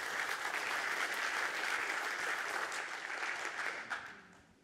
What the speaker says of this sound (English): A round of applause for Marion.